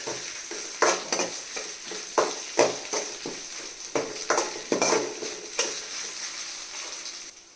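Homemade ginger garlic paste sizzles softly in a pan as it is stirred for mutton keema, with repeated scraping strokes at a steady, irregular rhythm and no talking.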